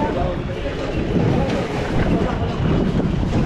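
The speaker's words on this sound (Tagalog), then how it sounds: "Mahangin eh, mahangin." Wind buffets the microphone in heavy rumbling gusts, with a voice faintly mixed into the roar.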